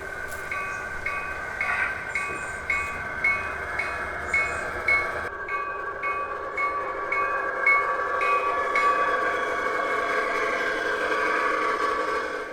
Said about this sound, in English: It's a great way to run the trains into the shed